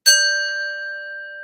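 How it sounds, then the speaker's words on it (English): A single bell, rung as a 'lie bell' on a gossip talk show, is struck once and rings out with a bright, sustained metallic tone that slowly fades, heard alone with no voices. "Let's ring the bell for the whole mama."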